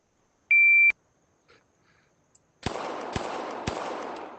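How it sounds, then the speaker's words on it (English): A single electronic shot-timer beep sounds in the ACE VR shooting game during a US Air Marshal qualification drill, followed by three sharp, close virtual gunshots roughly half a second apart with a short echoing tail. "Hit the beeper."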